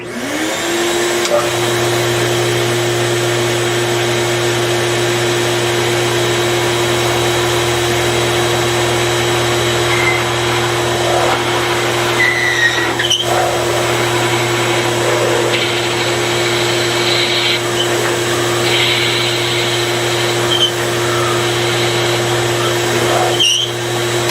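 A drill whines continuously at a steady pitch for a long stretch, boring a thumb hole in a bowling ball, loud and close, with a few faint clicks and shifts in tone.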